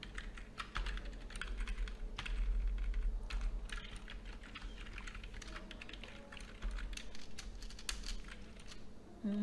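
Fingers tap steadily across a computer keyboard, producing a close, continuous stream of light clicking keystrokes over a faint low hum, with no voice heard.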